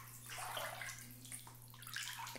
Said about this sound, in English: We're gonna add some herbs to this bath water.